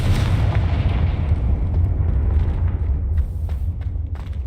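Confringo blasting spell in the game Hogwarts Legacy, a loud sustained roar of fiery explosion and rumbling crackle that stays heavy and close for several seconds before thinning out.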